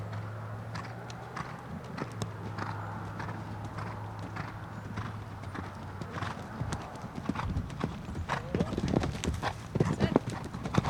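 Horse cantering in a riding arena during a jumping lesson, hooves thudding in a steady three-beat rhythm at moderate distance, with an instructor's voice calling over the footfalls.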